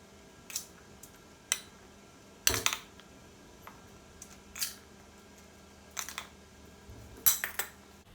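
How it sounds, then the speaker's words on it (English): Black beans are spooned onto nachos in a series of soft, separate clinks and taps of utensil on plate, quiet and close with pauses between, no talking. "Now I'm going to put the black beans."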